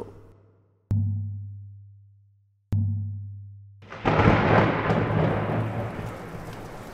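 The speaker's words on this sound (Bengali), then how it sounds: "ভাদ্র মাসের অমাবস্যা, ঝোড়ো বাতাস, টিপটিপ বৃষ্টি, বিদ্যুৎ চমকাচ্ছে আকাশে।" A thunderstorm sound effect for an audio story: two deep thunder booms each roll away slowly, then heavy rain and gusty wind roar in and keep going, loud and close.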